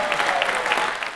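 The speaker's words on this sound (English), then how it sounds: "All right, round of applause for Dustin, everyone." A comedy club audience breaks into a short, steady burst of applause, a dense wash of many hands clapping at once, heard alone.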